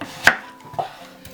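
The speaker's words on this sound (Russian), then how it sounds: "Нарезаем мелкими кубиками." A knife chops an onion into small cubes on a board, giving two or three crisp, separate strikes at an unhurried pace in a quiet kitchen.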